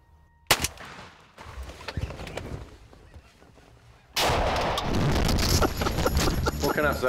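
A shotgun fires from inside a hunting blind with one sharp, loud blast, followed by scuffling and clatter and then a sudden burst of loud, sustained commotion.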